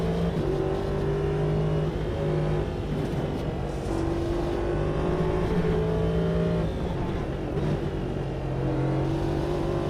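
Race car engine lapping Road Atlanta in the sim game Automobilista 2, a steady loud drone with rising and falling pitch as it accelerates and shifts, continuous for the whole stretch with no talk.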